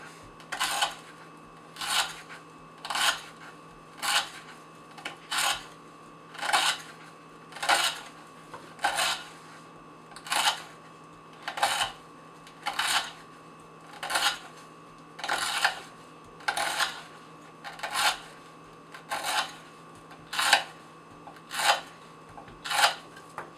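Chris Reeve Sebenza 21 knife with an S35VN blade slicing through rope, regular rasping cuts repeating about once per second, crisp and close against a quiet background with a faint steady hum.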